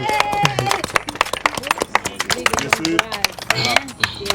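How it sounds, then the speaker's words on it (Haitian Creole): Sharp, irregular handclaps from a small group of people, fairly close, applauding a ribbon cutting at a house key handover for Miss Rosa at a foundation-built home, mixed with overlapping chatter and voices throughout. "Applaudis."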